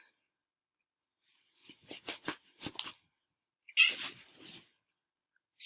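A cat meows several times in short, close bursts, followed by a louder, drawn-out yowl; no talking.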